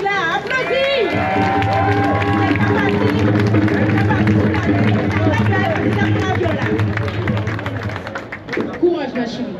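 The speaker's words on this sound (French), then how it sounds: "Applaudis, c'est Tigla, applaudis" Crowd at a funeral procession in Le Moule, Guadeloupe, with steady clapping and cheering mixed into loud chanting and shouting voices, plus a sustained low droning tone underneath through most of the scene.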